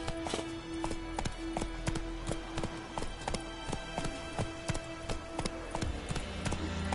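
Geralt's horse Roach galloping in The Witcher 3, steady rapid hoofbeats clip-clopping in an even rhythm for several seconds, close and clear over faint background ambience.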